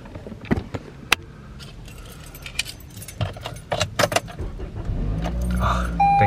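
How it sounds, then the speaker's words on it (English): Keys jangle and clink for several seconds, then a car engine starts and settles into a steady rising hum toward the end, close by. "Thankfully, my car did turn on."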